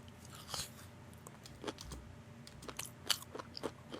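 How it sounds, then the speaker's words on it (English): Crunchy munching, irregular bites and chews with sharp crackly bursts spread over a few seconds, close and steady with no talk. "Listen to the munching."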